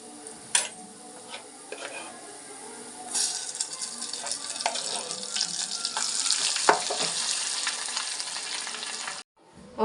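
Cooked toor dal tipped into a hot curry-leaf tempering in a pan: a few stirring knocks, then a strong, steady frying sizzle builds and holds for several seconds before cutting off, close up and without speech.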